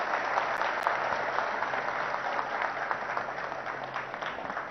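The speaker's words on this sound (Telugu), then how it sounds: "గట్టిగా ఒకసారి చప్పట్లు కొట్టాలి మంచి పని చేసిన వాళ్ళకి" Audience applause at a factory inauguration for Radiant Appliances & Electronics, where televisions are made, a steady broad wash of many hands clapping sustained throughout without letup.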